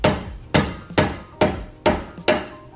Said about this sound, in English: Took a little bit of hammering to get it out